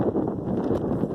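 Wind gusting outdoors on a cold, sunny day, a steady low rumbling buffet across the microphone that stays loud and constant for the whole moment, with no voices.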